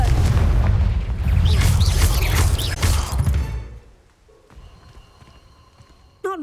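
A Confringo blast spell explodes in Hogwarts Legacy with a loud, rumbling burst that roars for a few seconds and then fades into quieter game sounds, ending with a short sharp effect.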